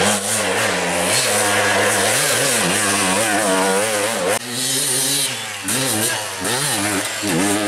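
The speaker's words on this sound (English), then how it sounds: "You can't beat a two-stroke for tough terrain." A two-stroke enduro motorcycle at the Romaniacs off-road competition buzzes and revs hard, its raspy engine pitch climbing and dropping repeatedly, loud and close throughout.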